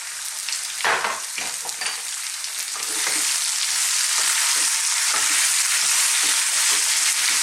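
Chopped white onion hits a hot pan of salted ginger-garlic paste for a potato chickpea curry, with scraping stirs at first and then a loud, steady sizzle.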